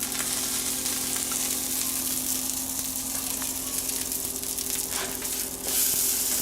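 Naan fries in generous butter in a pan, making a continuous soft sizzle close by with a low steady hum beneath and a brief louder surge near the end.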